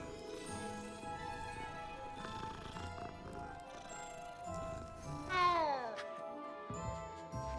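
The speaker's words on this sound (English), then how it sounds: "There's a cat. Oh, there's so many cats." Cats meow in the Hogwarts Legacy video game, with a clear drawn-out meow rising and falling midway through, heard over layered game music and ambient sound.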